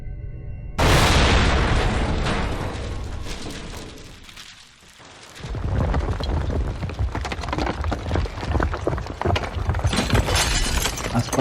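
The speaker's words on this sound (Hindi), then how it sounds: "इतने में एक और जोर का धमाका हुआ।" A sudden loud explosion bursts out with crackling debris, fades briefly, then a second roaring wave of rumbling and crashing continues to the end.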